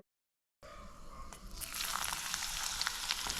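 Sliced garlic drops into hot oil after a moment of silence. It bursts into a bright, steady sizzle that grows louder and fuller, with small crackles and spits, close up and without voices.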